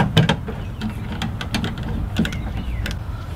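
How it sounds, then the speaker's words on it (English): An 11 mm socket ratchet removing the nuts holding a passenger side mirror on a 2004 Ford Mustang, giving a series of quick close clicks and scrapes against a steady low background. "we're going to use the 11 millimeter socket and get those 3 bolts off there"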